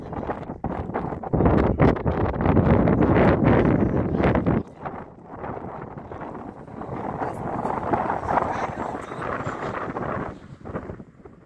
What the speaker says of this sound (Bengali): প্রচুর বাতাস এই জায়গায়